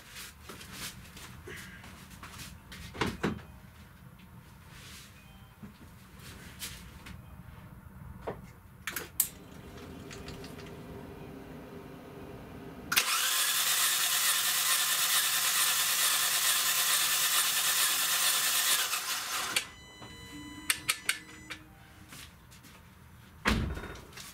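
A loud, steady mechanical whirring runs for several seconds as a hot Kia Optima 2.0 gas-fuelled engine is cranked over during a compression test, framed by clunks, taps and handling noises before and after.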